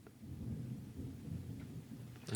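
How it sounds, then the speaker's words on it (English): Thunder rolling as a low, steady rumble at middle distance, with soft rain-like hiss throughout and a sharper burst at the very end. "that would be thunder because you can't hear lightning"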